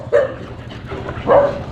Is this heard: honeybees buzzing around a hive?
no